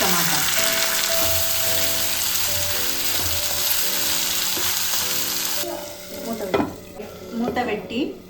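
Tomatoes added to frying onions in a pan set off a loud continuous sizzle with stirring, then the hiss drops and gives way to scattered spoon scrapes and clatter near the end.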